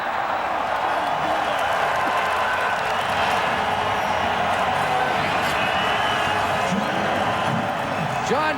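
A stadium crowd at a CFL football game between the Saskatchewan Roughriders and Calgary Stampeders roars steadily for a long running play, a dense, continuous wash of cheering beneath commentary.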